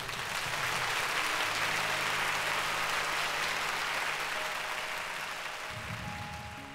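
Concert hall crowd at a live show applauds the performers and staff in a dense, sustained wash of clapping that fades slightly toward the end.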